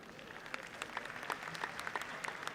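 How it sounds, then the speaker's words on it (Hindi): An audience claps steadily at a Hindi comedy poetry show, a continuous patter of many hands with scattered sharper claps, fairly faint and from the crowd rather than close. "देखिए क्या ताली बजा रहे हैं यार"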